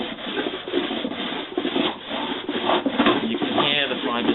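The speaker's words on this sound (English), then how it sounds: "You can hear the fibres being shredded as it's passed up the other." Llama and alpaca fibre being shredded in a fibre picker: a continuous close, dry rasping and tearing noise with fluctuating intensity, no speech.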